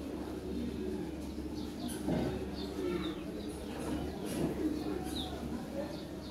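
Lahori pigeons, milk bar variety, kept in a breeding pen at a pigeon sale, give soft repeated cooing calls, faint and somewhat distant, with a low murmur of voices in the background.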